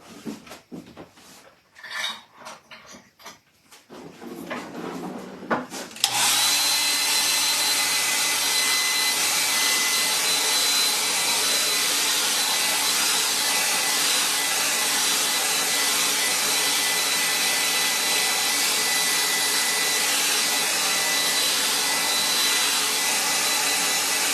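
A hair dryer switches on after a few seconds of faint brush and paper sounds, then blows with a loud, steady roar, held close while drying a watercolor painting.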